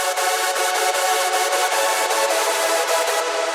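A hardstyle synth glue chord plays on its own, dense and bright, with faint rhythmic pulsing and an unbroken loud sustain, no talking.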